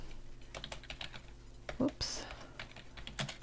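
Rapid keystrokes on a computer keyboard as text is typed into a table cell, a steady, close clatter of soft clicks with a brief faint voice in the background.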